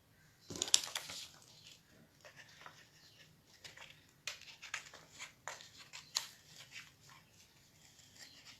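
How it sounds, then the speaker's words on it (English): Scissors cut through cloth being shaped into a geometric shawl design for acrylic painting, giving irregular close snips and crisp rustling bursts that come and go quietly, with no talking. "then we will cut with scissors"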